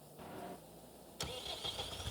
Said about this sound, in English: So, first of all, I'll jump in my Lendini tractor